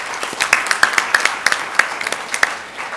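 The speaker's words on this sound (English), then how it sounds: "you should all applaud yourselves for the work that you do" A small audience claps at a business session, a sparse, uneven run of individual hand claps that sound fairly close, rising and falling with no talk over them.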